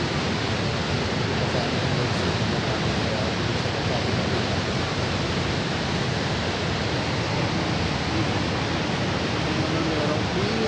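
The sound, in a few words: Niagara Falls waterfall roar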